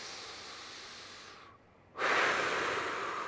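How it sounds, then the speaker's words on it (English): A person draws a breath in while lifting one leg during a core-stability breathing exercise; a steady, close airy breath stops briefly, then a stronger inhalation follows and continues, with no talking. "Next breath in, other leg."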